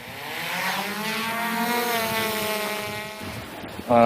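A DJI Mavic drone flying overhead at about 50 to 100 metres, a steady buzzing whine with rising and falling pitch that holds throughout before a louder noise at the end, with no talk.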